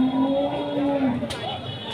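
Cattle low with drawn-out, tonal moos at a busy cow market held for Qurbani, the calls steady and fairly close over constant crowd murmur.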